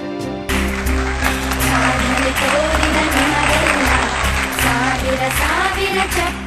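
A crowd bursts into sustained, loud applause, dense clapping that starts suddenly and carries on evenly for several seconds with a steady roar beneath it.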